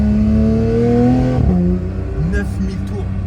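Close car engine revving hard inside a tunnel, a rising roar that peaks and then drops off sharply, with people talking over it.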